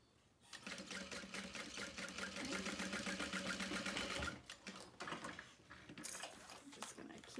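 A sewing machine stitching a seam on a make-up bag runs in a fast, even mechanical whir for about four seconds, pauses briefly, then resumes in shorter bursts, fairly close.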